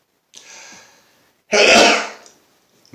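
A man sneezes once, loud and close: a soft intake of breath precedes a sharp, noisy burst that dies away quickly, with no talking around it.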